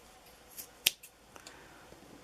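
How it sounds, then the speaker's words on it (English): Scissors snip through pink velour fabric for a no-sew cat bed, a few faint, crisp cuts with one sharper snip, close and quiet. "and I'm gonna cut."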